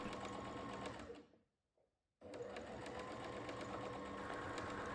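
A sewing machine stitches quilt blocks in a rapid steady hum, stopping abruptly for about a second and then resuming at the same fast pace.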